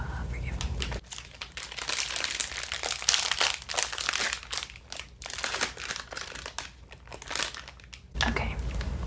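A sealed snack bag from a kiwi snack box is loudly ripped open, with close, sharp crinkling and tearing bursts over several seconds and a voice talking at times.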